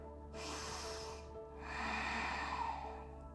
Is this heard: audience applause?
no